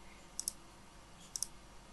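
Two quick double clicks of a computer mouse, faint and close, about a second apart over a low background hiss.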